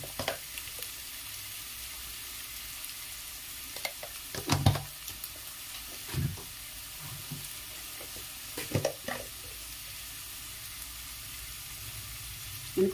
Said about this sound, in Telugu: మనకు ఇప్పుడు వేసినటువంటి ఆనియన్స్ కొంచెం లైట్గా ఫ్రై అవుతున్నాయి కదా